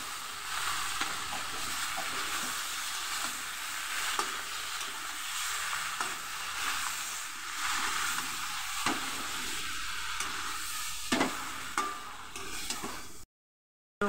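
Taro pieces frying in a pan, with a continuous hissing sizzle and occasional stirring scrapes and clicks, close but quiet, no one speaking, ending in abrupt silence.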